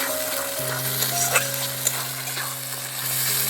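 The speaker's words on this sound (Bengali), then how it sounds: "হলুদ দিচ্ছি, মশলাটা কষিয়ে নিচ্ছি" Spice paste with salt and turmeric being sautéed in a pan while cooking jackfruit with goat fat, a dense, close frying sizzle with light stirring and a steady low hum underneath, no voices.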